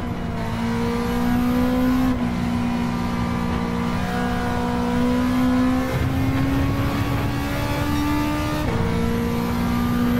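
A Toyota race car engine in Gran Turismo 7 drones at high revs, loud and close, with pitch climbing through each gear and dropping at three clear upshifts, running steadily with no voices.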